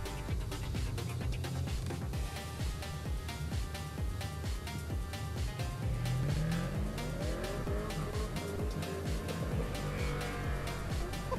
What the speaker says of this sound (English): Damon Gill now for his first qualifying run in the White Falcon